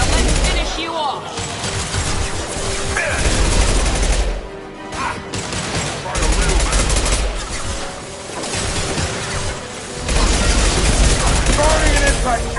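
Gunfire in the video game Mass Effect 2, loud sustained automatic bursts and booming shots that rarely stop, with combat voices shouting among the shots.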